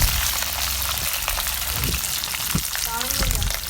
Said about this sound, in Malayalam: ഇതിലേക്ക് കറിവേപ്പിലയും ഈ വറ്റൽമുളകും കൂടി ഇട്ട് കൊടുത്ത് നല്ലൊരു ക്രിസ്പി ആകുന്നത് വരെ ഒന്ന് ഇളക്കി കൊടുക്കുക